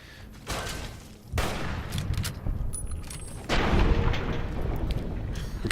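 A grenade explosion in the video game Fallout: New Vegas, a loud booming blast followed by a second heavy burst and sustained rumbling noise, with no talking.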